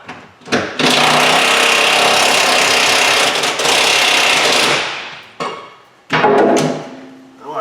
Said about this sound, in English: I'm gonna loosen up the other tank strap here